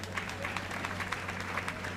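Congress audience applauding in a large hall, a brief steady patter of clapping heard at moderate distance over a low background hum.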